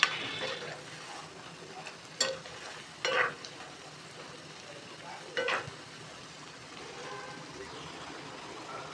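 Broccoli 65 pieces frying in hot oil, a steady broadband sizzle throughout with a few brief louder bursts as pieces are stirred or turned; no talk.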